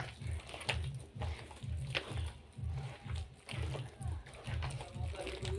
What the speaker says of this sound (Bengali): এবার আমি ডাল ও চালটা ভালো করে মিশিয়ে নিচ্ছি